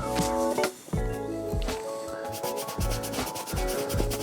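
A suede shoe being scrubbed with a bit of soapy suede cleaner, steady rubbing strokes in close-up with short pauses between passes, no talking.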